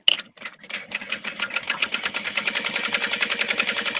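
A sewing machine stitches close by, starting with a few slow clicks and then speeding into a fast, even rhythmic chatter, with no one speaking over it.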